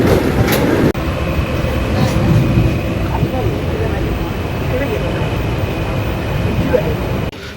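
Overnight passenger train running, with a loud, steady rumble and rattle of the carriage, a brief jolt near the start and a drop in level near the end, under a voice talking.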